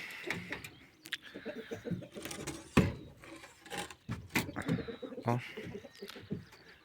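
Pigeons coo softly nearby amid rustling and knocking in a rabbit and poultry shed, while a person talks intermittently in Polish over them.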